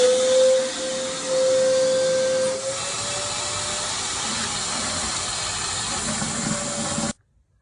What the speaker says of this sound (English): Use a wet vac to remove any water left in the tank.